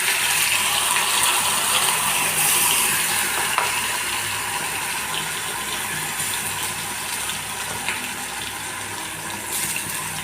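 Ginger, onion and garlic paste frying in hot white refined oil, a loud, close, continuous sizzle with stirring scrapes running the whole time.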